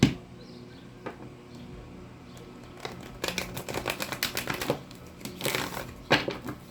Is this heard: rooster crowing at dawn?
no